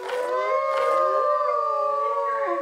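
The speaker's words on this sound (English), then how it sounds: "The little ones howl and it's so cute." Little baby dinosaurs in the video game ARK howl in a high, sustained, wavering cry that rises and falls. It is loud, close and continuous for a few seconds, with no talking over it.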